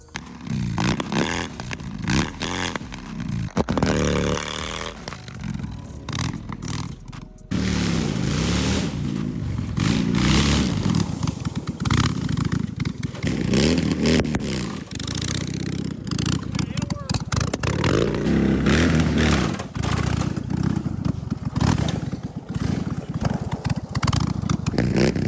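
A riding lawn mower fitted with wheelie bars runs loud and rough, its engine revving and sputtering with clattering bursts, cutting out briefly before roaring back on steadily.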